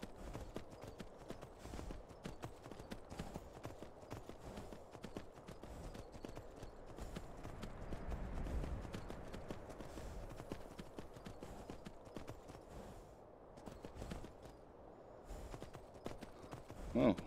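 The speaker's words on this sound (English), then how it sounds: "Oh, my horse doesn't care about terrain," Horse hooves clip-clop in the VR Skyrim video game, a steady run of quick hoofbeats over uneven ground with a brief whinny near the end, moderately loud and continuous.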